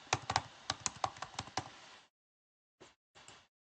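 Quick bursts of keyboard typing, a rapid run of clicking keystrokes, then a pause and two more isolated taps, close and clear with no voices.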